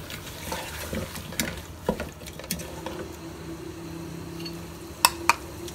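A spoon stirs beef with cumin and spices in a cooking pot, making soft scraping and gentle frying sounds with a few sharp clinks near the end.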